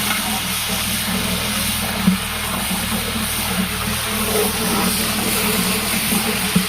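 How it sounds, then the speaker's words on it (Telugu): A loud, steady sizzle of hot oil as tempering spices for sambar fry, hissing continuously, with faint crackles and pops scattered through it. "పోపు వేస్తున్నారు ఇప్పుడు సాంబార్కి"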